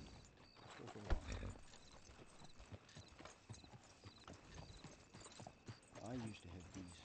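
A horse in a Red Dead roleplay game walks with a steady, close clip-clop of hooves, and a brief snort or whinny is heard. A person talks over the hoofbeats.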